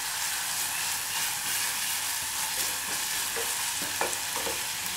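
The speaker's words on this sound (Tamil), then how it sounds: "இஞ்சி பூண்டு பேஸ்ட் போட்டு நல்லா வசக்கணும்" Onion with ginger-garlic paste sautéing in a pan for beef curry: a steady, close sizzle with scraping stirring strokes near the end, and no talking.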